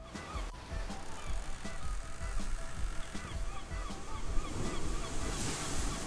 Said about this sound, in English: You can also faintly hear ocean noises in the background.